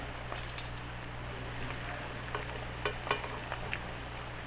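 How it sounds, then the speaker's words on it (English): Breaded chicken cutlets fry in hot oil in two pans, giving a steady, close sizzle with brief crackling spikes and a low hum beneath. No one speaks. "So we're going to let those fry up."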